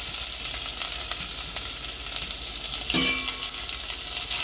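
Coconut and jaggery for modak filling being stirred together in a pan with ghee, a steady close sizzle with scraping stir strokes and a brief louder clatter near the end.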